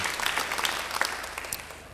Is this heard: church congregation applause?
yes